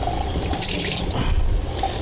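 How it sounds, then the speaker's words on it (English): Brown, dirty water from rinsing an aquarium sponge filter runs down into a sink, a close, steady splashing trickle. "that brown, dirty water running down the bottom of the sink"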